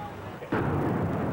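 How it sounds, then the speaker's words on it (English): Explosion rumbling through downtown after the September 2001 attack: a sudden heavy low boom at mid-clip that swells into a sustained rolling rumble, fairly loud and close. "many smaller explosions rumbled through downtown"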